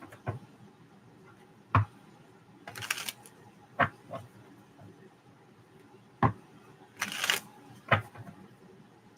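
Tarot cards being shuffled in short bursts, sharp riffling crackles and soft taps spaced a second or two apart against a quiet room, close and fairly faint.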